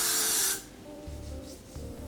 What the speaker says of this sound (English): I'm gonna use my Got2b spray and spray down my cap just so I can do the ball cap method.